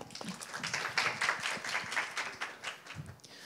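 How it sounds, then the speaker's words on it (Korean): Audience applause greeting a speaker at a conference on the role of regional universities, a steady wash of many hands clapping at moderate distance with no talk over it. "큰 박수로 맞아주시겠어요?"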